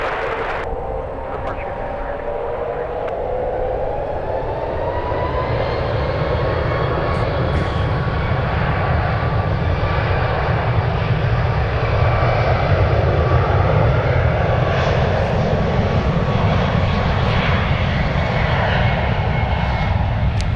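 A Boeing 747 jet on approach to the runway at San Francisco airport produces a loud, sustained engine roar with a rising whine, steady and close, building slightly throughout.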